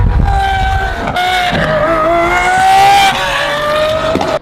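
A stock 2020 Lamborghini Aventador SVJ engine revs loud and close, its pitch climbing and dipping in several sharp surges before cutting off abruptly at the end.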